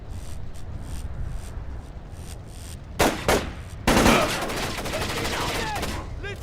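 Gunfire in Splinter Cell: Chaos Theory: a couple of sharp, loud shots come close together, then a sustained burst of rapid automatic fire continues over a dull background hum.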